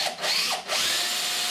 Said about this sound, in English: And then we can drill the fixing hole.